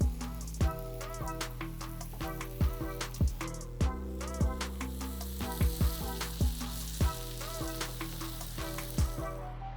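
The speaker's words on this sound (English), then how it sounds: "I'm gonna paint it directly on the skillet and then start frying these seam side down" Steady sizzling of wraps frying in garlic butter in a hot skillet, with repeated soft knocks and taps of a utensil against the skillet; no talking.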